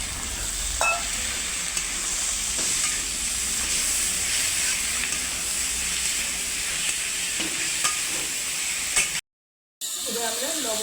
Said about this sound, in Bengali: এবার আমরা মাংস কুচিটা দিয়ে দেবো।